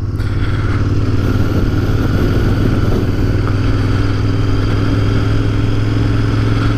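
Royal Enfield motorcycle riding along a country road, steady loud engine drone at constant speed with a low throbbing exhaust note and wind rush, no talking.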